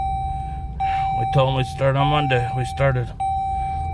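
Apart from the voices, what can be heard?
car seatbelt warning beeping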